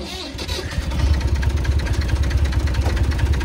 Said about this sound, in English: Most reliable tractor on the farm here has to start every morning.